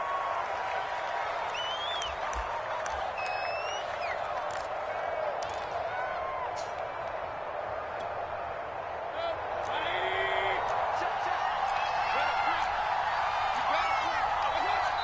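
In an American football video game on PS4, a home stadium crowd roars in a continuous, loud wash with whistles and cheers swelling partway through, under a commentator's talk.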